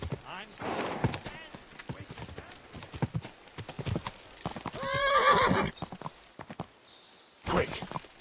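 A horse's hooves clip-clop at a gallop and the animal whinnies loudly in a medieval game scene from Kingdom Come: Deliverance 2, with shouting voices around and over the hoofbeats.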